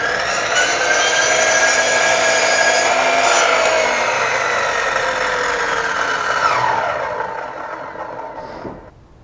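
A power tool whines loudly and steadily as it trims a frame rail during floor construction, holding at one level for several seconds before winding down and stopping.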